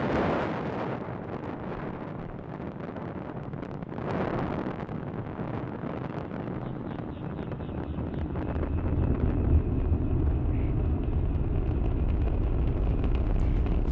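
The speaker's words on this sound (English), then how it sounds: "Falcon 9 has successfully lifted off from Launch Complex 39A, carrying our 53 Starlink satellites into space" A SpaceX Falcon 9 rocket carrying 53 Starlink satellites lifts off from Launch Complex 39A, a continuous heavy roaring rumble that swells and deepens as it goes on.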